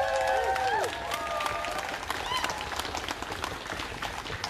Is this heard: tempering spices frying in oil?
no